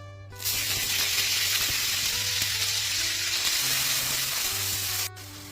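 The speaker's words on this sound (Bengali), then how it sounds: "পনির ভাজা তেলের মধ্যে প্রথমে আমি দিয়ে দেবো পেঁয়াজ বাটা" Onion paste drops into hot oil left from frying paneer and bursts into a loud, steady sizzle that holds for about five seconds before cutting off sharply.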